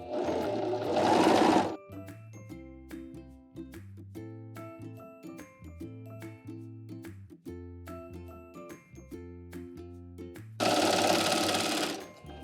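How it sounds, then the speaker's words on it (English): A serger stitches the shoulder seams of a T-shirt in two loud, fast-whirring bursts, one at the start and one at the end, with music playing in between. "So I'm gonna serge this right up"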